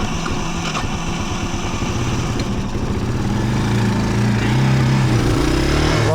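An old three-wheeler's engine runs steadily on fuel after starting, its low, fast, uneven chugging loud and close throughout, with no voices.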